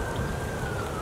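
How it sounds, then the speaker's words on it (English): Police sirens wail through a neighborhood, a steady drawn-out tone holding over a broad wash of street noise and what sounds like rain, moderately distant and without speech. "As you can hear, there are police sirens currently."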